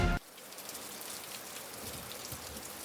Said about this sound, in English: The rain was definitely not awesome